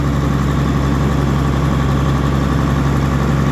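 A John Deere 9420 tractor engine, back from turbo trouble that had filled the exhaust with oil and raw fuel, idles with a steady, loud, unbroken drone and deep low hum, close by and with no voices.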